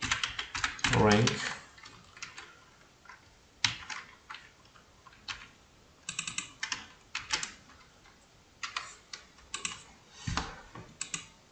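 Keys clatter on a computer keyboard in quick bursts of close, crisp clicks separated by short pauses, as country names and rankings are typed.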